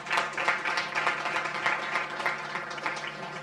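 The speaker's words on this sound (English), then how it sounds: "let's have a round of applause for all of you present here" Steady applause from a crowd, many hands clapping continuously at moderate volume for a few seconds.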